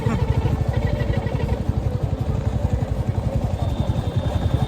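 A Royal Enfield motorcycle rides through jungle, its thumping engine loud and close with a steady pulse, and a voice talks over it part of the time.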